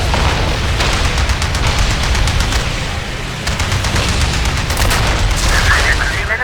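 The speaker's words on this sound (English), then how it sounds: "Incoming artillery!" An artillery barrage in the WWII air combat game Heroes over Europe: a sustained roar of dense, rapid gunfire and repeated booms, with faint radio voices over the continuous din.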